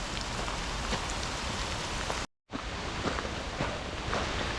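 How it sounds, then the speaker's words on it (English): Heavy rain falls steadily around Highlands Park in Chelmsford, Essex, a loud, even wash of drops that cuts out for a moment midway and then resumes. "The rain is getting heavier"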